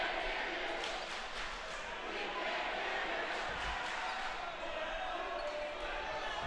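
Rival fan sections at a boys prep basketball championship between Blair Academy and St. Benedict's fill an indoor gym with a continuous roar of crowd noise and chanting, steady and dense throughout.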